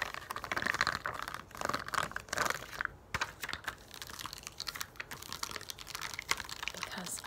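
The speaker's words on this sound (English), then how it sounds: "I will be making sounds with this kind of like pop-up bubble sticker" Pop-up dot bubble stickers from a dollar store being tapped and scratched close up, giving a dense run of crisp crinkly clicks and scrapes with a brief pause near the middle, quiet and steady throughout.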